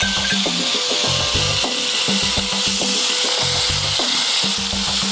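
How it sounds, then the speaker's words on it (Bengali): Boiled chopped bottle gourd for lau chingri fries in a pan in a home-style Bengali kitchen, giving a steady close sizzle with scraping, rubbing stir strokes that repeat in an uneven rhythm, with no talk. "তারপরে এই সেদ্ধ করা লাউ কুচিগুলো আমি দিয়ে দেবো।"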